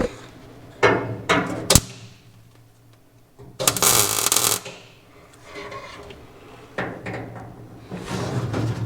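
MIG tack welding on sheet metal of a Power Wagon cab under repair: a few short, crackling bursts of arc, one longer and louder, with clanks and shuffling between them and no talking.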